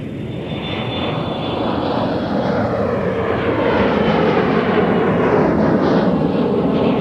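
United airplane landing on runway 30 left at Minneapolis–Saint Paul airport, a loud rushing engine roar that swells steadily, with a faint high whine near the start and no voices.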